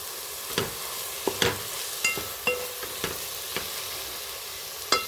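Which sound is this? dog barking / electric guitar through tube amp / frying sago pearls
frying sago pearls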